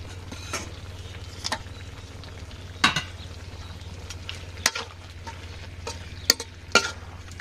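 A spoon stirs Bengali chorchori vegetables frying in a pan with garlic and cumin paste, a low steady sizzle broken by several sharp metallic scrapes and clinks.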